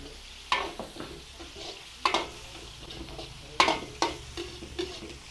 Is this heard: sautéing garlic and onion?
yes